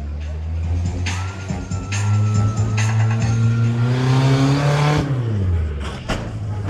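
A monster truck at a live show revs its engine loudly through a jump and landing, the pitch climbing steadily then dropping, with an announcer talking over it.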